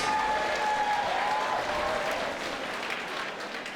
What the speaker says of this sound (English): Burbank, how about a big round of applause for these two valiant warriors?